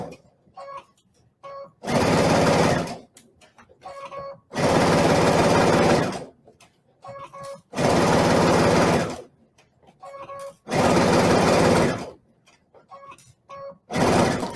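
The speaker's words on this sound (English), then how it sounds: "So now I'm going to sew it." A sewing machine stitches a mitered quilt border in four long, loud bursts of rapid mechanical whirring, separated by quiet pauses with soft handling clicks.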